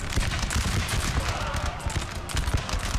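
Musket volleys crackle continuously in a Napoleon: Total War battle, dense overlapping shots forming a steady loud rattle of gunfire with no gaps across the stretch.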